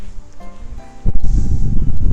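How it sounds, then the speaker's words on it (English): Wind gusts buffet the microphone, starting faint then turning into a loud, steady rumble from about the midpoint onward. "it's got quite windy"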